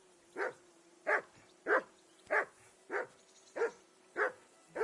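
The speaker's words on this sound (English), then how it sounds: "Henry, call that dog to heel." Dog in the medieval open-world game Kingdom Come: Deliverance 2 barking in a steady run of about eight evenly spaced barks, moderately loud and close, with a faint whimpering tone between them and no speech.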